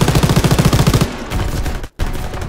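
Rapid machine-gun fire in a Call of Duty WWII battle, a loud close burst of evenly spaced shots followed by denser distant firing and a brief cut.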